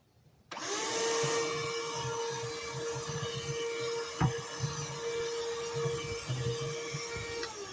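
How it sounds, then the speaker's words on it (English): A vacuum cleaner switches on abruptly and runs with a loud, steady whine and motor drone, close by, continuing throughout with a faint thump midway. "Vacuum."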